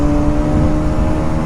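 A Bajaj Pulsar NS200 motorcycle pulls hard in third gear near 90 km/h, a loud, close, steady engine drone with sustained tonal whine, brief and without talk.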